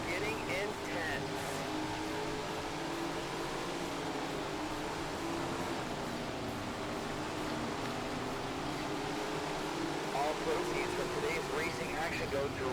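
Sprint cars racing on a dirt track in Tony Stewart's Sprint Car Racing, a steady faint engine drone with mild revving throughout, a voice talking over it.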